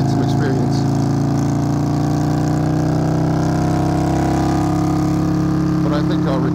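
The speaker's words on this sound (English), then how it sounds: "I'll record this a little bit longer so you can listen to my bike down these beautiful curves" A motorcycle rolls down a winding road, its engine a steady, loud droning hum with wind rush that swells slightly through the curves.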